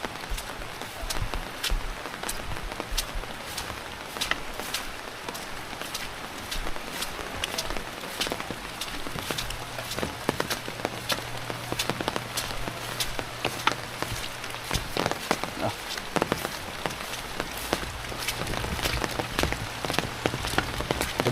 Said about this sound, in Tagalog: Gabi pa nagulan ng ganito.